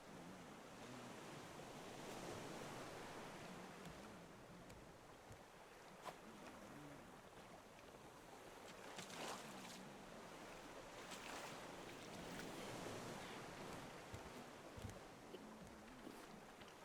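Ocean waves and wind wash around a boat under sail in a survival video game, a soft, steady, distant rush of surf and water with faint occasional creaks, no talking.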